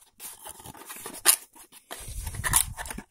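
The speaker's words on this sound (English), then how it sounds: "It's just cut the piece of tape and open Sesame." Scissors snip the tape on a Transformers Legacy United Deluxe toy's packaging, with a sharp close cut followed by rustling and scraping of the box as it is opened.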